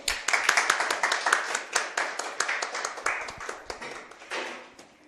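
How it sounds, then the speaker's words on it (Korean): Audience at a Korean teacher-exam success-story presentation claps to welcome the teachers to the front, a brisk burst of many hands starting strong and gradually thinning out over about five seconds. "네, 선생님 박수."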